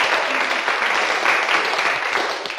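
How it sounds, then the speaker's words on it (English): Applause for a new member at the end of a dance class, brisk close clapping from a small group, steady for a couple of seconds then fading slightly, no voices. "A round of applause for our new class member."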